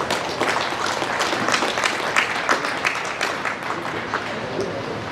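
Round of applause for exhibitors and breeders at a Jersey cattle show, clapping from a modest crowd in a show arena; fairly dense, steady clapping with some individual hand claps standing out, a murmur of voices beneath.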